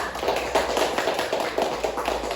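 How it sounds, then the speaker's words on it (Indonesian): A classroom applauds a student group after its presentation, a dense patter of many hands clapping steadily for a couple of seconds with no voices over it. "Kita beri tepuk tangan dulu untuk kelompok 1."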